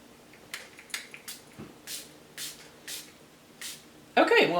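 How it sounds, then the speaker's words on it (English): Short bursts of mist from a skincare spray bottle aimed into a hand, roughly seven separate hissing puffs in an uneven rhythm, close and fairly soft, followed by a louder rustle at the end. "I'm gonna spray it into my hand."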